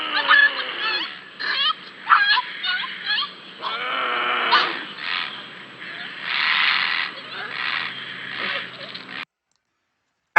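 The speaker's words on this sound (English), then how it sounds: "That was kind of heartbreaking hearing the dog yelping like that, the puppy yelp like that." An injured puppy, rescued from an alligator, yelps and whimpers in rapid high-pitched bursts, loud and close, with a few longer cries, then silence at the end.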